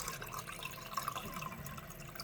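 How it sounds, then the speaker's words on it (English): Beef stew broth being drained from the pot into a separate bowl, a faint steady trickle and pour of liquid with small drips, low and continuous. "he's going to drain the liquid into a separate dish or bowl"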